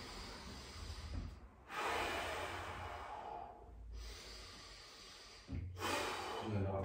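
Deep, drawn-out breaths in through the nose during a slow low-back morning mobility routine, three long inhales close to the mic, each swelling and fading with short pauses between.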